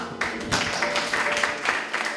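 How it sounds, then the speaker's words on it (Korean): Church congregation clapping in praise, a steady wash of many hands at moderate volume with scattered sharper claps, no voices over it. "그리고 우리 하나님께 영광의 박수 올려드리겠습니다."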